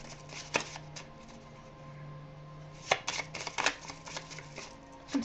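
Small hand-painted oracle cards with gold paint are shuffled in a few quiet bursts of riffling and flicking, close by, with soft pauses between.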